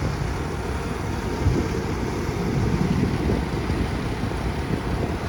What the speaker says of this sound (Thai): เสียงตัวนี้เสียงเครื่องยนต์ตัวนี้